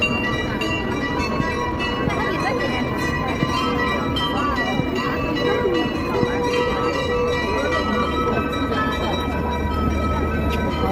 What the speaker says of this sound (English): Yes, it's mesmerizing bells.